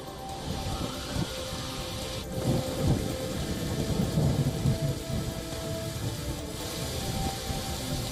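Heavy rain pours steadily through a thunderstorm, with rolling thunder swelling and rumbling at intervals beneath a constant dense wash of rainfall; no voices.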